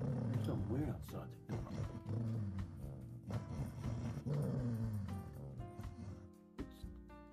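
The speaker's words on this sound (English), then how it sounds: "It's a dog." A dog growls and snarls outside in a low, rumbling, continuous way, loud and close, while people talk over it.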